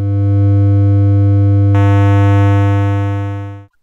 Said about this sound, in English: the sound of the square wave is richer than a pure sine wave